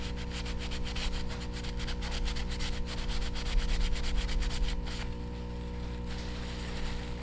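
Excess solder is scrubbed off a circuit board in rapid, rhythmic rubbing strokes close to the microphone, with a steady electrical hum beneath them. The scrubbing fades to a quieter hiss in the last couple of seconds.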